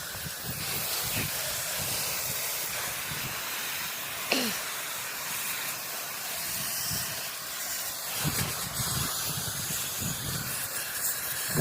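Fast 5 Solutions Pro Glow sprayed over a surface, a continuous broad hiss that runs throughout at a fairly steady level with a few brief louder spurts.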